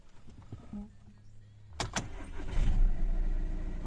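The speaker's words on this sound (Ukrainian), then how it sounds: "Машина завелась." A Volkswagen Passat B7 2.0 TDI (103 kW) engine cranks and catches after a timing belt and drive belt replacement, with a sharp starter burst followed by a steady, rising idle rumble close by.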